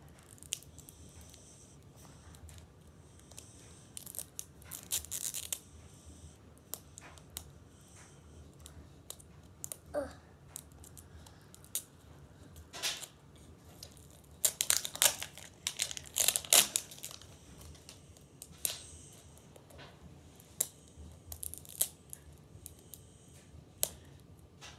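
Scissors snipping packaging while a Mini Verse diner and cafe series miniature is unboxed. Quiet, scattered crinkles and small clicks come in sparse bursts, busiest near the middle, with no voices.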